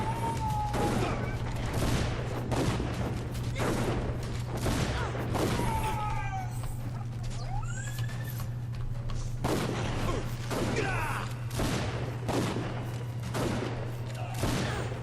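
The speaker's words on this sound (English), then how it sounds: "I can't see what I'm shooting at." Gunfire bursts out in the video game Dungeon Siege 3 during a fight, rapid repeated shots and booms crowding one another over a constant low hum, loud and continuous throughout.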